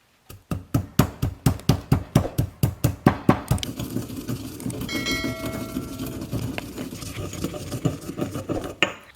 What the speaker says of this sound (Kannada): ನಾವು ಇದನ್ನು ಬಿಸಿ ಇರುವಾಗಲೇ ಒಂದು ಕುಟ್ಟುವ ಕಲ್ಲಿಗೆ ಹಾಕಿ ಹುಡಿ ಮಾಡಿ ತೆಗೆಯುವ.